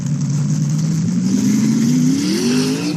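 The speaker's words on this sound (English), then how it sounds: "Yeah, she revs up nice and clean." A car engine revs steadily, its pitch climbing smoothly as the throttle opens, loud and close with no talking.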